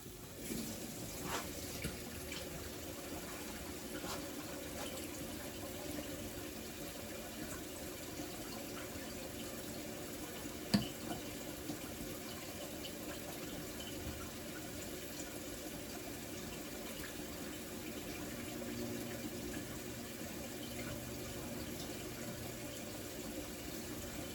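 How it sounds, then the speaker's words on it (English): Water runs steadily from a kitchen tap into a sink, a continuous splashing rush with one brief knock partway through. "Turn the water on so it get hot"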